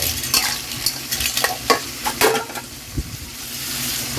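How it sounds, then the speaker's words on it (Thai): Clams tossed and stir-fried in a hot pan, with sizzling and scraping stirs that come in irregular bursts, close and moderately loud, with no one speaking. "ผัดไปเรื่อยให้หอม พอเราเริ่มได้แล้วเนี่ย เราก็ใส่หอยลงไปนะไป"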